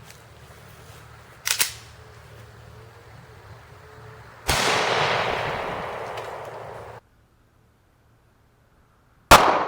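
A 9mm handgun fires into a stack of eight layers of firehose: one sharp, loud shot stands out, with other loud bangs and a long bright noisy burst in the clip, and no talking.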